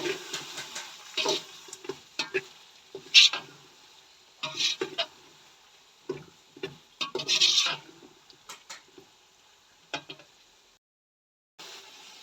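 Vegetables being stirred with salt in a pan for Chinese rice, a spoon scraping and clattering in short irregular bursts with quiet gaps, close and fairly soft, with no talk.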